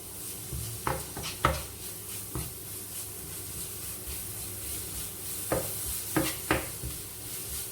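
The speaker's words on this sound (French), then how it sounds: "On fait bien mijoter" A ground meat sauce simmers in a pot, giving a steady soft bubbling hiss. A few sharp scrapes and clinks of a utensil against the pot are scattered through it, close by and with no talking.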